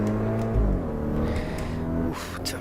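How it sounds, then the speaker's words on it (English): A race car in Assetto Corsa EVO runs steadily with a deep, bassy engine drone, then shifts up near the end as the tone drops and rises again, loud and continuous. "it's a really bassy sounding upshift"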